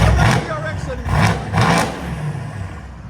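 A Mercedes-AMG C 63 with a 4.0-litre V8 revs loudly nearby in a couple of deep surging pulses, with people talking over it.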